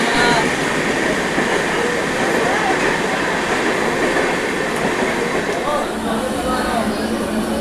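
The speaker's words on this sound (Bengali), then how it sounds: "আমাদের ট্রেন ইতিমধ্যে ছেড়ে দিল" A departing Panskura to Digha EMU local train rumbles along steadily with continuous rail noise and faint rhythmic wheel clatter, loud and close, with voices murmuring underneath.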